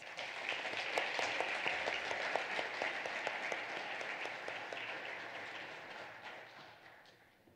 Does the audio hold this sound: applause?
yes